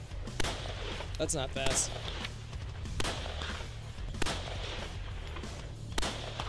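Rapid gunfire from a Modern Warfare 2 shooting challenge comes as a string of sharp, evenly spaced shots over a low game background, while a player speaks briefly.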